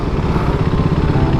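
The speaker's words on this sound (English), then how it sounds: "there are a lot of super bikes over there. And look at these super bikes" Superbike engines, including BMW and Kawasaki ZX machines, idle and rumble steadily nearby, a continuous loud mechanical drone with no speech.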